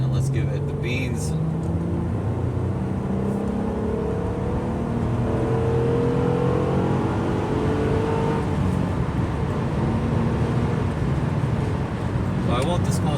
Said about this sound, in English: the noise that you heard was pure engine, not really a lot of exhaust there